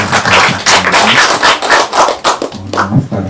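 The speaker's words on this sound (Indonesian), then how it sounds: "Mau berikan tepuk tangan untuk para narasumber kita." An audience applauding the speakers at a cultural forum in Pakem, a loud burst of dense clapping that fades out and then swells again briefly, with some background voices.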